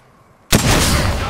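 Gunfire in the Apex Legends battle royale game on Xbox One X erupts suddenly after near silence, a loud, dense, sustained burst of shots continuing to the end.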